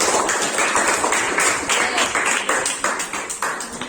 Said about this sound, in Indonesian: Tepuk tangan untuk Joyce